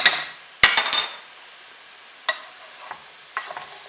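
Lightly fried potatoes stirred with flour in a pan: a few sharp scraping knocks of a utensil against the pan, then sparse quieter scrapes over a faint sizzle.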